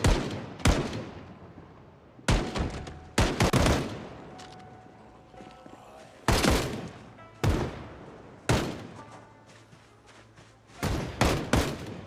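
AK rifle gunfire in the zombie survival game Project Zomboid, a series of sharp separate shots with decaying echoes at irregular intervals over a low background.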